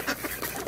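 Hungry ducks quack in a brief, busy burst of overlapping calls, close and fairly loud.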